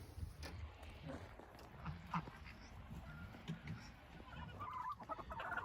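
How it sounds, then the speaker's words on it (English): Chickens cluck and murmur in a steady, busy chorus close by, with occasional sharper calls rising above the low background rustle. "So I lock these chickens in this coop."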